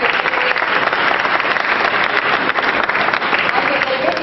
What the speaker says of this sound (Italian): Io vi chiederò un applauso per il primo cittadino